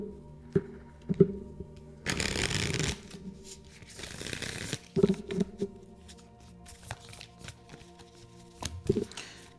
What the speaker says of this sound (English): Let me pull a few more tarot cards.